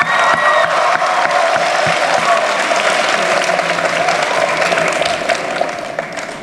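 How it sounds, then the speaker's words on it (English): Graduation audience at an 8th grade ceremony at Minnesota International Middle School applauds the parents, a loud sustained wash of clapping with a few cheers that holds steady for several seconds and begins to taper near the end. "So please give them a round of applause"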